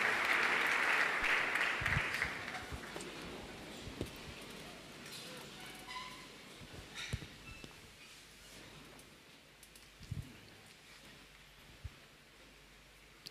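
A church congregation applauds at a sermon, a dense burst of clapping in the first couple of seconds that thins into scattered claps and a low murmur of room noise.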